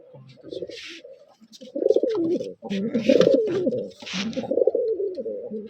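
A patta tournament pigeon whose voice is affected by a cold gives a series of close, rough cooing calls in uneven bursts with short gaps between them.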